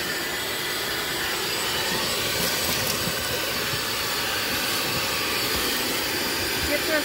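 A shop vac roars steadily and close while vacuuming dirt out of a car's interior. The loud, unbroken whoosh runs the whole time with only slight shifts as the nozzle moves.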